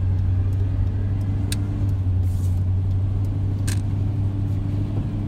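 A truck engine runs in a steady, close, loud rumble as the driver presses the gas, the low drone holding even throughout with faint higher ticks above; no talking.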